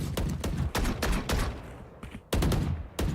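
Rapid bursts of Vandal rifle fire wall-banging through cover in a tactical shooter esports match, loud and close, with several quick volleys separated by short gaps and no talk over them.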